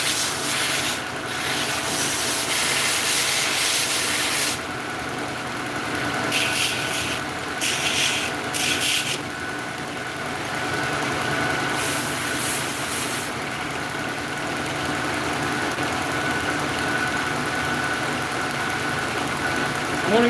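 A motor-driven sander works over knife handles in a bulk finishing run, a steady droning motor with rubbing, abrasive hiss that rises and falls in bursts as each handle is pressed to the belt.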